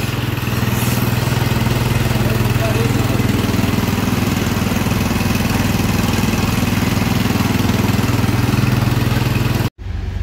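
A quad bike engine left unused for about eight months runs steadily and loudly at close range, a continuous idling drone that cuts off abruptly near the end.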